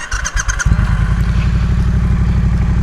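A Triumph motorcycle with open exhausts cranks briefly and catches, settling into a loud, close, throaty idle with a rapid, even pulse.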